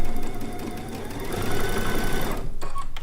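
Sewing machine stitching a seam on a log cabin quilt top, a loud, close, rapid rhythmic whir running continuously for about three seconds before easing off briefly near the end.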